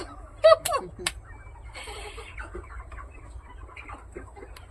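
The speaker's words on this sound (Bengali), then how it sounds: "মুরগি এখন ওয়েট করা হচ্ছে একে পা বেঁধে উল্টে দেওয়া হয়েছে" A broiler chicken hung upside down with its legs tied while being weighed gives a few loud, sharp clucks near the start, then quieter scattered calls over a steady low background.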